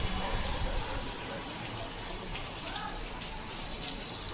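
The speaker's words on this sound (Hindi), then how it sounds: "तो बारिश देखें आप, तेज़ की हो गई बारिश।" Heavy rain pours down outdoors in a steady, dense hiss of drops that carries loudly and evenly throughout.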